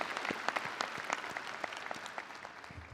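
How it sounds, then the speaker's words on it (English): Audience applause at a university commencement ceremony honoring veterans, a steady wash of many hands clapping with close individual claps standing out, fading slightly toward the end. "So a round of applause for all of those who've served our country and who are our students."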